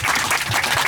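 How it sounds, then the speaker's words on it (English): A brief burst of passengers clapping for the crew aboard a Flybe Dash 8 turboprop on the inaugural Birmingham to Belfast flight, heard over steady cabin engine drone. "if you wouldn't mind joining me in a round of applause for our crew."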